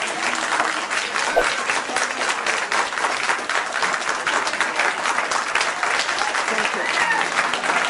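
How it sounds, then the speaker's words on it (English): An audience at a speech or debate gives sustained, dense applause that carries steadily throughout, with a brief spoken thanks heard over the clapping. "applause till the end."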